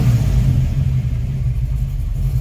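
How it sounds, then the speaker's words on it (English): A 1971 Camaro with a mild small-block V8 idles steadily, a low, even rumble with a slight lope, close by and with no voices over it. "This car's got a mild small block. It actually idles and runs good."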